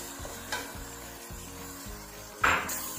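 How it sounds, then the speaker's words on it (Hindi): Small boneless chicken cubes fry for chow mein while a wooden spatula stirs and scrapes the pan in a regular rhythm, steady sizzle beneath and a louder scrape near the end. "बिल्कुल इसको अच्छी तरह से फ्राई कर लेना है।"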